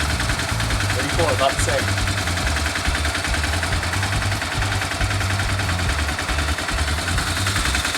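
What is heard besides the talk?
dual sport motorcycle running with aftermarket slip-on exhaust muffler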